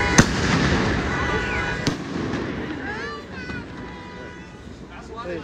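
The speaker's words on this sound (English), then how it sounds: "It's just fireworks" Fireworks bursting during a Fourth of July celebration, a sharp close crack followed by another bang and fainter crackles and whistles, with someone speaking softly under the noise.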